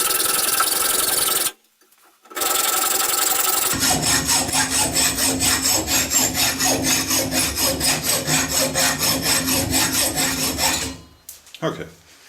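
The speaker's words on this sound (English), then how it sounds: "I will just hacksaw these lugs away." A hacksaw cuts lugs off an aluminum casting clamped in a bench vise, its rasping strokes close and loud in a quick, even back-and-forth rhythm for several seconds after a short burst of noise and a pause.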